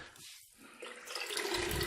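Clean water is poured through a HEPA filter to rinse it, a steady splashing, gushing flow that grows fuller and louder as the pour continues.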